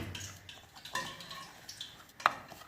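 A spoon mixes ground garam masala powder, made from roasted cumin and dried coriander, in a bowl. Quiet, sparse scraping and soft taps lead to one sharp metallic clink near the end.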